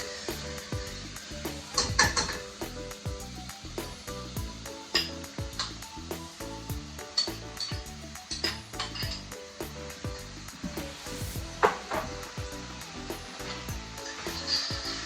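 Chopped tomatoes hit a pan of Telangana dawat-style spicy mutton curry, setting off a steady close sizzle with frequent sharp clanks of a stirring spoon against the pan throughout.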